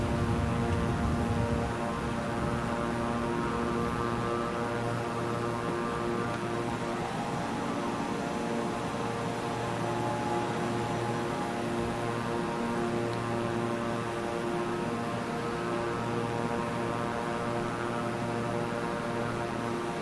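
Beechcraft King Air propeller aircraft in flight, a steady loud drone with a constant tonal hum from the engines, continuous and close throughout with no pauses.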